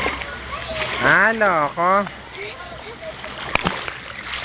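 A child swimming makes a few bursts of splashing water, close by and brief, while adults talk and cheer loudly over it.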